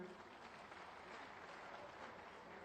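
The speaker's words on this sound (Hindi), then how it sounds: "जोरदार तालियां उनके लिए।" Audience applause at a public event in Srinagar, greeting a woman from the Shopian district: a steady, fairly distant wash of clapping with no breaks throughout.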